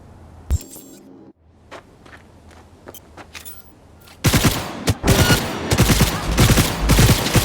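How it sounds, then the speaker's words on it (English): Gunfire in the video game Cyberpunk 2077: one sharp shot near the start, then after a lull a loud, dense burst of rapid automatic fire and heavy shots that fills the rest of the clip. "Heard shots."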